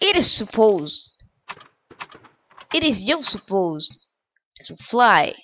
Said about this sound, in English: Sorry for the typing noise.